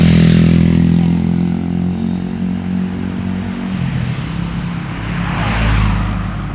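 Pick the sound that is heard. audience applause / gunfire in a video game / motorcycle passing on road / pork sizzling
motorcycle passing on road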